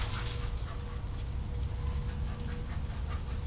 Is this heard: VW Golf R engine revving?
no